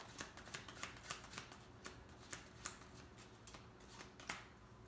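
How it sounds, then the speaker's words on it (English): Soft rapid riffling of playing cards being shuffled, a series of quick crisp flicks in an uneven rhythm, close and quiet. "we'll give it a little shuffle"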